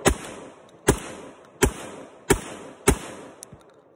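An SDS Lynx 12 gauge shotgun fired from a magazine, giving five sharp, loud reports at a steady pace about three quarters of a second apart, each ringing briefly, followed by a faint mechanical click.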